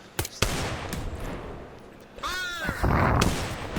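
Sharp, loud gunshot cracks from a memorial salute for Zeta-9 fired one at a time, several separate bangs with short echoing tails, and a rising whistling tone in the middle.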